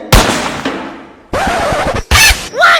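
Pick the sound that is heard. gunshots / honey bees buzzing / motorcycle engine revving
gunshots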